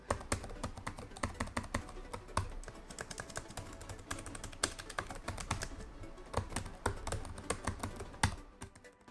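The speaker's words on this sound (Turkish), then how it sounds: "Tuş vuruşlarını 30 desibelin altında tutmuşlar." Rapid, continuous typing on the keyboard of an Asus Zephyrus M16 laptop, with close, fairly quiet key clicks in an uneven rhythm and a few harder taps, with no voices.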